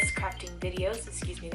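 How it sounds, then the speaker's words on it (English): Phone and smartwatch notification chimes ring out with a few bright, tinkling tones that overlap someone speaking close by. "that was my phone and my watch."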